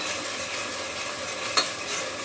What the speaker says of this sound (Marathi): आपली फोडणी थोडीशी परतून घ्यायची तेलामध्ये